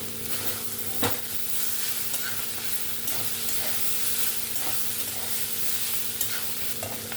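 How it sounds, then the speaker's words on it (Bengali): Spiced potato and eggplant stir-frying in a pan with turmeric, salt and chili powder, giving a steady close sizzle broken by a few sharp spoon scrapes and knocks against the pan. "মশলাগুলো দেওয়ার পরে এক মিনিটের মতন নাড়াচাড়া করে আমি ভাজা ভাজা করে নিয়েছি"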